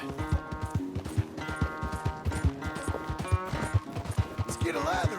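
Horse hooves clop in a steady rhythm across a Red Dead Redemption 2 ride, close and fairly soft, under background music, with a brief whinny near the end.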